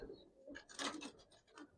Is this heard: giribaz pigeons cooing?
yes